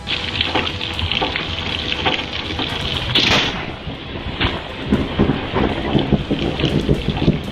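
Heavy rain pours down during a thunderstorm, a dense continuous roar of crackling impacts with a louder rumbling burst partway through.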